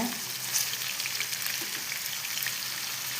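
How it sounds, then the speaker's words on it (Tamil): Paneer fries in hot oil for a Chennai-style paneer biryani, giving a continuous dense sizzle and crackle that holds steady throughout. "பன்னீர் பொரிஞ்சிக்கிட்டு இருக்குங்க."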